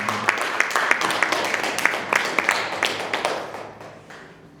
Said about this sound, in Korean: 하나님께 감사의 박수 올려드리겠습니다